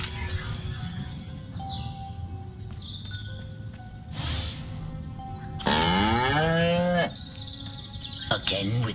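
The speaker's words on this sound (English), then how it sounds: "Again with the moo?" Cow mooing in the video game Destroy All Humans!, a long loud moo rising and falling near the end, with earlier game tones, chirps and bursts of noise around it.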